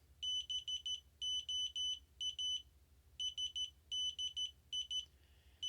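A VE2DX dual radio band decoder beeps out its CW sequence once its LED test is done: a string of bright, steady tone pulses in short grouped bursts, moderately loud over a low background hum.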